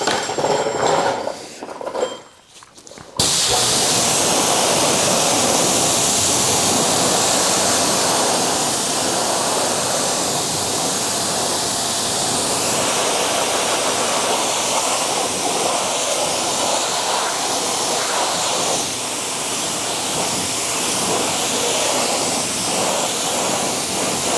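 Water spray rinsing a car wheel during a wash, a loud continuous hiss that starts abruptly after a brief quieter moment and runs steadily without pause.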